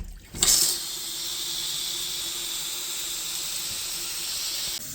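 Water rushes through a camper toilet during de-winterizing, starting abruptly with a sharp surge and then running as a steady, close hiss for several seconds before cutting off.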